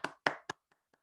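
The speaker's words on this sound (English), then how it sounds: "just give yourself a round of applause." A handful of sharp hand claps: three loud ones in quick succession, then two much fainter claps trailing off.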